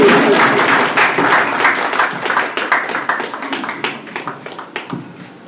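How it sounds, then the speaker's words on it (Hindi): Dense applause from an audience at a Hindi poetry gathering fills the air, then thins out into scattered individual claps as it fades. "एक बार जोरदार ताली"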